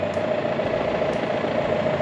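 A riding lawn mower engine idles in a steady, continuous drone with a strong fixed hum, close and loud throughout, with no talk over it.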